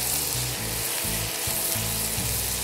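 Ginger sizzles and fries in oil in a pan, a steady close crackling hiss with soft scraping stirs, continuous for a couple of seconds.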